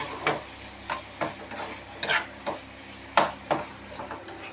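Masala powder is stirred into a frying mixture, a low sizzle under repeated scraping strokes of a spoon, about a dozen bursts in an uneven rhythm, close and clear.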